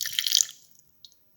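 About 10 ml of water poured into a kitchen grinder jar holding ground coconut and fennel seeds, a brief close splash lasting half a second, then a faint drip.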